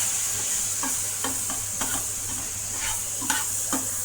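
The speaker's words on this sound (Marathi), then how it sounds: "यामध्ये थोडंसं पाणी टाकून भाजून घेते." Poha dosa batter spices, with red chilli, roasting in a pan with a little water, giving a soft steady sizzle and a few light scraping stirs spread across the clip, with no talking.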